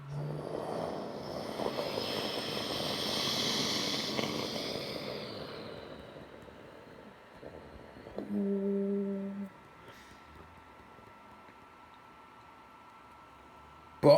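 Qantas Boeing 787 arriving from Frankfurt passes overhead on approach to land at Heathrow: a broad, distant jet roar that swells and fades over several seconds, followed by quieter background hum.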